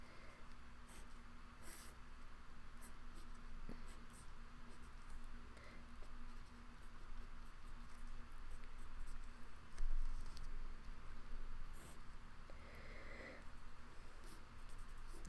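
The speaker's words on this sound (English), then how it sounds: "So I will draw this in a little bit better way for me to see it." A pen scratches across paper while a circuit diagram is drawn by hand: faint, irregular strokes and taps come close by in quiet surroundings, with a slightly louder scrape partway through.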